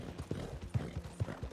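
A horse in Red Dead Redemption 2 Online gallops at a quick even pace, its hooves giving rhythmic soft thuds at moderate volume, with no talk.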